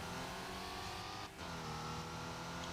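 Porsche race car accelerating hard in Need For Speed Porsche Unleashed during a 911 Anniversary Cup race, a steady loud engine drone with rising harmonics and other cars close behind.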